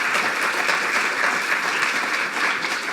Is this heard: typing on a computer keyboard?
no